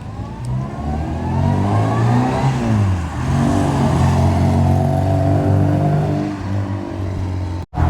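A 1972 MG Midget sports car accelerating through the gears, its small engine revving up, dropping at a shift around the midpoint, then climbing again, loud and close, ending in a brief cut.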